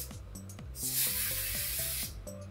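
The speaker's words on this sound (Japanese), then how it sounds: "全体的にスプレーをつけます。" An Ojiotto botanical oil spray is pumped over hair in one sustained, close hiss lasting about a second, set against soft background music.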